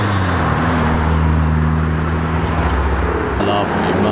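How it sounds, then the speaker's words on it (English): A Ford Mustang drives past on a public road, its engine a steady, close, low hum amid passing traffic before cutting away abruptly near the end. "Lovely Mustang. Look at that."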